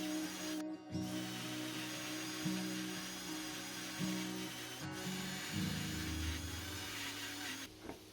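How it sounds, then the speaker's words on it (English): A power polisher works over a yellowed car headlight, a steady motor whir with rubbing friction that changes pitch as pressure shifts, with no talking. "we'll still give it a finer polish"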